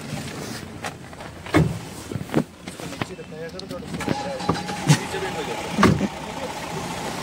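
Car driving on a rough, damaged mountain road on the way to Adi Kailash, with an engine drone beneath intermittent thumps and rattles from bumps, while people talk over it.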